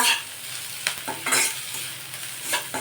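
Capsicum, cabbage and other vegetables stir-fried for veg fried rice, giving a constant close sizzle with a few spatula scrapes and tosses, and no one speaking.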